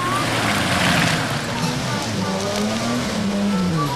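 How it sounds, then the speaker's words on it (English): A 4WD vehicle churns through a muddy bog hole, its engine droning steadily with water and mud sloshing throughout, continuous and fairly loud. "The lead vehicle of the convoy has got himself stuck in this hole and will be snatched out."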